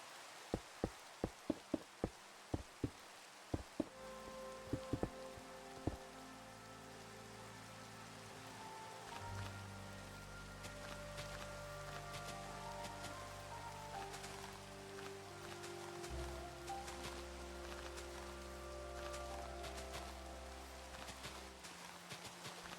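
Steady rain hisses softly across Minecraft, a faint even wash under low game music, with a string of sharp clicks at the start.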